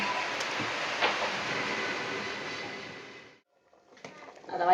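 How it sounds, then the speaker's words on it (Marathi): Rain falling outdoors at a rural home, a steady dense hiss for about three seconds that fades to near silence, followed by faint clattering and movement. "आता पाऊस येतोय तर"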